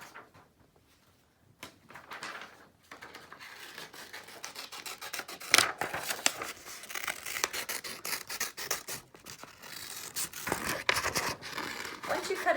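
Scissors cut a circle out of paper, a steady run of close, dry snipping and rasping strokes that starts after a quiet moment and continues, slightly irregular, to the end.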